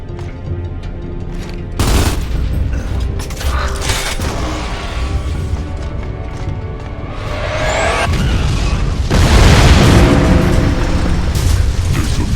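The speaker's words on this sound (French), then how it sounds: "Dom, tire un mortier par le toit." Mortar fire launched through a roof in the video game Gears of War 2, with loud creaking, mechanical clatter and booming explosions that swell to a heavy, sustained roar near the end.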